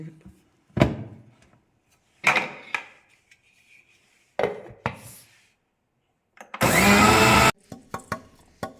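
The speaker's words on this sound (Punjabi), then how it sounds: "ਹੁਣ ਗ੍ਰਾਈਂਡ ਕਰਦੇ ਆ ਚਾਰੇ ਚੀਜ਼ਾਂ" Electric kitchen grinder whirring through four ingredients in one loud, dense burst of under a second, between separate knocks and thuds of handling the jar.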